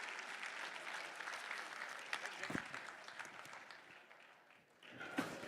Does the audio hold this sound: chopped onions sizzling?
no